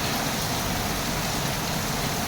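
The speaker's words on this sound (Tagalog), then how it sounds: "It's raining in Quezon City. Ang lakas ng ulan." Heavy rain falling beside a street in Quezon City, a dense, steady hiss that fills the whole stretch evenly, near and loud, with no voices.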